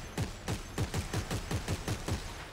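Rapid gunfire from a weapon in Dead Space 3, shooting at yellow points: about eight sharp, evenly spaced shots in a steady rhythm, loud and close, with no talking over them.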